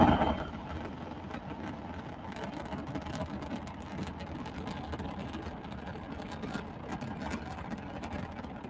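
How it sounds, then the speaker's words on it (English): A Rocket Lab rocket engine roars through a played launch video, a dense, rough, crackling rumble with rapid sputtering texture that holds at a steady level throughout, with no voices over it. "the last like 30 seconds, you can actually hear the engine itself"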